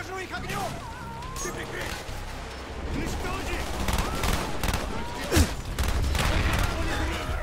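Enemy gunfire and RPG blasts in a Black Ops campaign battle, a constant loud clatter of shots with a sharp explosion partway through, under faint voices.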